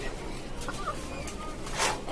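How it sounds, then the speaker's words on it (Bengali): Native chickens cluck softly and intermittently nearby in a large rooftop cage, with one louder squawk near the end over low background noise. "মুরগি পালন করতেছি"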